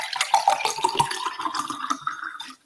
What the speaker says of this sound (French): Je prends un verre d'eau en vous attendant.